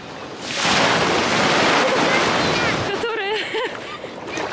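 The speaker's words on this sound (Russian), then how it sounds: "Быстрее надо пройти волны." Sea waves break close by as a loud rushing surge of foam and water, mixed with buffeting wind on the microphone. Then the roar eases and excited voices break in over the churning surf.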